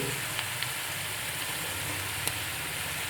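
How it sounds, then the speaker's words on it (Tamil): Onion mixture sautéing in a pan for gooseberry curry, a steady close sizzle with a few faint clicks of stirring. "நல்லா வதக்கட்டும்"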